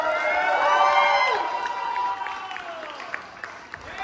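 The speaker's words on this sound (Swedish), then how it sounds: "En varmaste applåd för till bandet" A crowd at a band gig in a small studio venue applauds and cheers loudly, with whoops and shouts, the clapping fading over a few seconds into scattered claps.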